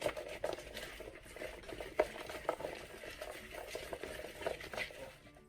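Food being tossed with kosher salt and fresh minced garlic, giving soft patter and stirring scrapes with a few light clicks of dishware, close and fairly quiet, with no talk.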